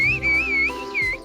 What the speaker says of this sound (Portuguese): Idioma do assobio.